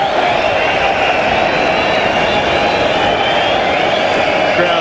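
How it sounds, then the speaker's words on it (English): Stadium crowd at a rugby sevens match in Hong Kong, a dense, steady roar of many voices that holds level throughout without clear peaks. "Crowd coming alive here at the stadium in Hong Kong"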